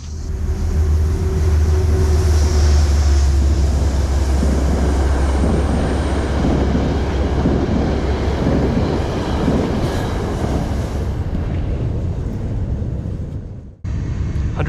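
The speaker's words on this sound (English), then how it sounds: "Here comes the train" A train on a long curve along the Hudson River rumbles past close by, a steady loud roar of wheels and rail noise that holds for most of the clip before cutting off abruptly near the end.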